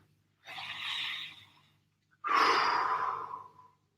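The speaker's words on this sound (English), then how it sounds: "big deep breath." Two deep breaths taken during a home recovery workout: a slower inhale, a pause, then a louder, longer exhale, close to the microphone.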